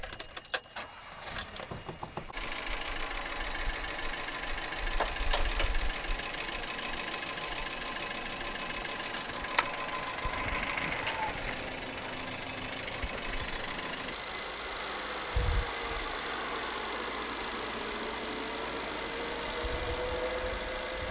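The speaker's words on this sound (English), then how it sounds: "The engine is running." A car engine idles with no battery installed in a steady, fairly quiet hum, broken by a few faint clicks and clunks, with no voices.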